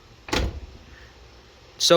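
A Toyota Supra Mk4 car door shuts with two soft, close thuds, one near the start and one at the end, without being slammed.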